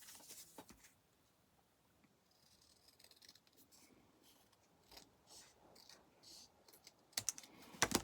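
Scissors snip across a sheet of folded paper to make a folio, a series of quiet, irregular clicking cuts with faint rustling, growing louder and sharper toward the end.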